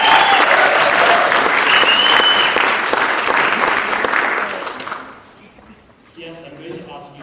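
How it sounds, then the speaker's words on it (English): Morning audience at the 2022 SA-GEO Symposium breaking into loud, full cheering and applause that swells, then thins out after about five seconds as a voice begins speaking. "shall we give them a happy spring day cheer to get them going?"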